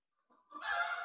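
A rooster crows once at a poultry show, close and clear. A short rising note opens into a sustained, harsh crow that fills the brief moment, with no talk over it.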